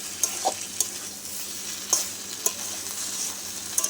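Ash gourd stems stir-fried in a pan with a splash of raw oil added near the end, a steady quiet sizzle broken by several sharp spatula scrapes and taps, no voices.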